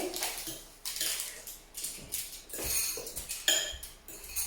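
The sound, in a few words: stirring okra omelette mixture with a utensil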